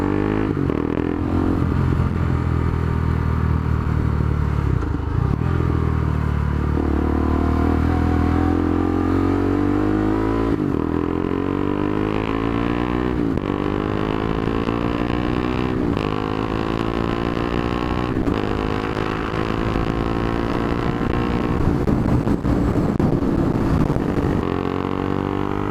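A KTM RC390 motorcycle cruises along, its single-cylinder engine a loud continuous drone that rises and falls through gear changes and throttle shifts, with wind and road noise mixed in.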